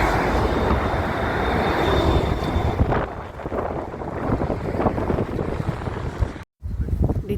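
Steady, heavy, freezing wind outdoors in snowy weather buffeting the microphone, a broad continuous roar with gusty fluctuations and a brief dropout near the end.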